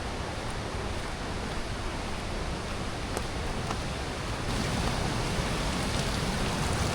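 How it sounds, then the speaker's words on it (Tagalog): Continuous rushing river water on the way to Maranum Falls fills the scene, a broad steady roar that swells slightly louder partway through, with no talking. "Narinig ko na yung ano, agos ng tubig."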